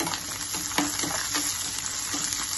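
Cut green chillies fry in hot oil for a coconut tomato chutney, giving a loud, close, continuous sizzle with a few brief crackles and no talk.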